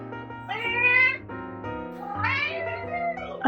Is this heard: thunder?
no